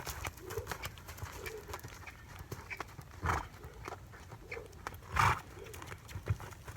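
Horse cantering on sloped ground during lunging, soft rhythmic hoofbeats thudding at moderate distance, fairly faint, with a couple of louder thumps and birdsong in the background.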